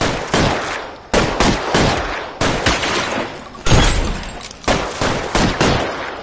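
Gunfire in L.A. Noire rings out in sharp, loud, close shots, roughly a dozen in an uneven rapid rhythm with short gaps between volleys.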